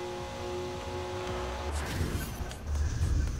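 BMW 1 Series M Coupe driven in Forza Horizon 4, a steady engine drone holding a tone before dropping into rougher rumbling and tire noise as the car shifts and accelerates, close and moderately loud.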